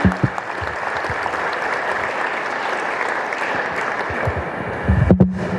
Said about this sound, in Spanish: Pido un fuerte aplauso para nuestro invitado de honor.